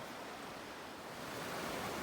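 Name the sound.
stream water flowing under a bridge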